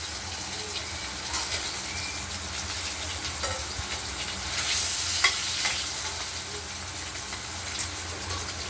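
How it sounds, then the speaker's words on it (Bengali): Steady, crackling sizzle of catla fish frying in hot oil, continuous and close, with a few brief clinks and stirring sounds and no talking. "বাকি মাছ কটা আমরা ভেজে নেব"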